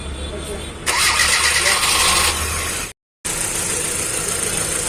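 Petrol engine of a Hyundai i20 with a misfire cranking and catching, settling into a steady loud idle that cuts out briefly and then resumes; people talk nearby.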